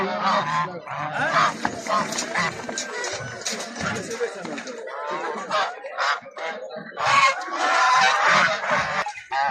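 Geese honk loudly and repeatedly, a noisy flock close by at a poultry market, with people talking in the background throughout.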